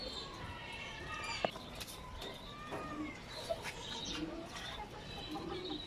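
Pigeons coo softly and repeatedly in a low, murmuring chorus, with faint chirps and background rustle.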